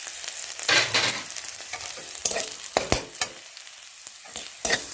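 Onion fries with turmeric and salt in a pan while a spatula stirs it, giving uneven scraping knocks and clatters over a continuous sizzle, close and fairly loud, with no talking.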